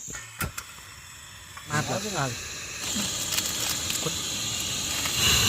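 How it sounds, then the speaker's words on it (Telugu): A steady hiss of water boiling for tea on a stove at a night campsite in a forest, with a voice speaking briefly partway through. "టీ చూడండి మరిగేసింది"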